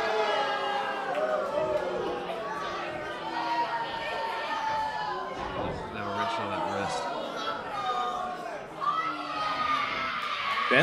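A boxing crowd at a combat event shouts and chatters steadily throughout, a dense, loud wall of voices with occasional louder cheers rising above the general din.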